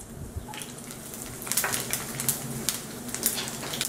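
Vadagam tempering sizzles in hot sesame oil in a clay pot, with fenugreek, mustard seeds and urad dal, giving soft continuous frying crackle with sharper pops building, close and fairly quiet, no talk.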